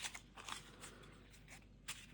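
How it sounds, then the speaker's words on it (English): A deck of playing cards is shuffled close by, heard as a few quick, crisp riffling bursts separated by short pauses, quiet and without talk. "You're going to shuffle those together."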